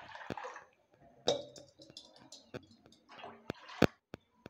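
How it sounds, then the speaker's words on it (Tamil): A vessel of water is poured into a cooking pot on the stove, with lentils already heating, for drumstick-leaf soup. It comes as intermittent close splashes and sharp clinks separated by quiet gaps. "தண்ணி ஒரு சொம்பு ஊற்றணும்."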